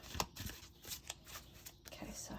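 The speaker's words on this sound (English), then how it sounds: "That's not a really great shuffle" Thin cardstock tarot cards in standard tarot size being shuffled by hand, soft riffling flutters and light slaps in short bursts, fairly quiet and close, with a voice speaking over them.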